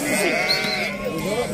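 Sheep bleat at a Moroccan livestock market in the Qalaa area, several close, loud overlapping cries that waver continuously across the short moment, with someone talking among them.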